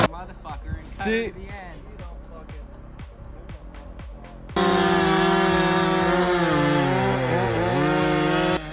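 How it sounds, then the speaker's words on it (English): A modified Husqvarna 395 chainsaw with a 42-inch bar cuts into an Oregon hazard tree, its loud, steady high-revving whine coming in abruptly midway and holding, after a stretch of clattering, mixed machinery and voices. "Listen to that modified Husqvarna 395. Music to a logger's ears."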